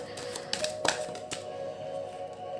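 Playing cards being shuffled by hand, a run of light, crisp flutters and taps close by, fairly quiet over a low steady background hum.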